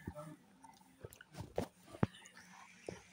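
Close, soft wet lip smacks and chewing noises come in irregular bursts, with one sharper smack near the middle and faint murmured voices underneath.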